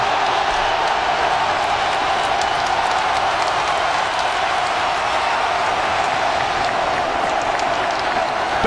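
A packed college basketball arena crowd roars at full volume during a Georgetown Hoyas vs. Maryland Terrapins game, a steady, deafening wall of cheering and clapping that holds for the whole stretch, with no clear voices standing out.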